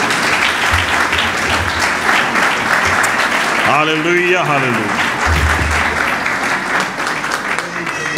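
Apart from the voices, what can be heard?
loud applause for Jesus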